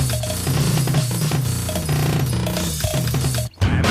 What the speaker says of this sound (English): When he plays his drums, it sounds like this.